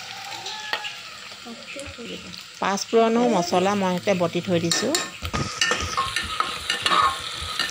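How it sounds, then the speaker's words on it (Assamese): Onion, garlic and ginger paste with bay leaf frying in hot oil for goat meat curry, a soft sizzle with spoon stirring and scraping, while a person talks over it through the middle. "ৰঙচুৱা হোৱালৈকে মই ভাজিয়ে আছো"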